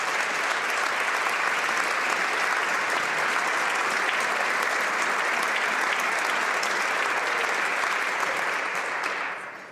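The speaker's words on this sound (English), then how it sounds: "I would like to invite all members of this House to join me in a round of applause" Members clap in the Canadian House of Commons chamber during a sitting: a dense, loud, sustained round of applause from many hands fills the room for nearly ten seconds, then cuts off at the end.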